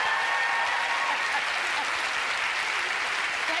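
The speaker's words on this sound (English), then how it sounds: "Thank you for clapping, because it did kind of stink." Studio audience at a television talk show breaks into sustained, loud applause, a dense wash of clapping that continues evenly throughout.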